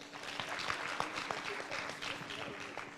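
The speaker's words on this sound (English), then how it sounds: "Let's clap again for ourselves." Audience applause at a safe motherhood conference, a steady wash of clapping hands filling the room from start to finish, with faint voices mixed underneath.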